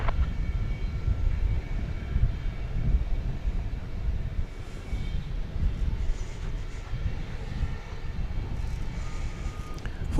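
An airplane roars steadily at DFW Airport, a broad, rumbling engine noise that holds for the whole stretch without a break.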